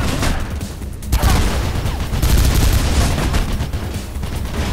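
In the Mirror's Edge video game, an enemy machine gun fires loud, dense bursts of gunfire that roll on continuously, with a short lull before heavier volleys return.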